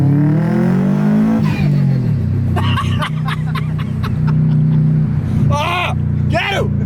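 A turbocharged car accelerating, heard from inside the cabin: a loud engine drone rising in pitch, then holding steady, with people talking and laughing over it.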